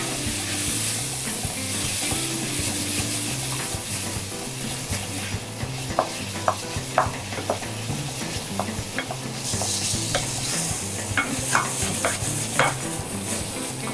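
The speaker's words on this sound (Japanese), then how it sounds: "ざく切りにしたトマトを入れて" Chopped tomatoes stir-fry with curry powder for keema curry, a loud close sizzle with sharp spatula scrapes and taps that grow busier in the second half, with no one speaking.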